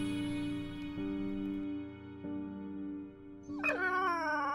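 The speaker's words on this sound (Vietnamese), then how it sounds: "Nhìn kìa, thật kỳ lạ, con chó sống lại rồi." A dog in a Vietnamese fairy-tale cartoon whimpers in a thin, wavering whine, then breaks into a rising howl near the end. The sound is close and clear over a steady musical background.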